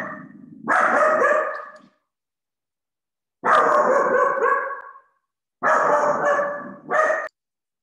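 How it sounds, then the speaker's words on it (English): A dog barking loudly and close by indoors, three long harsh bursts of barking separated by silent gaps, with no talking. "I had to move rooms to get away from my dog."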